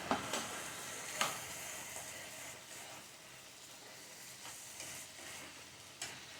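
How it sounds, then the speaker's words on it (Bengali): Banana stem curry with jaggery and garam masala being stirred in a pan, a quiet sizzle with occasional spatula knocks and scrapes against the pan. "এটা জলটা শুকানো পর্যন্ত আমি এটাকে ভালো করে নাড়তে থাকবো"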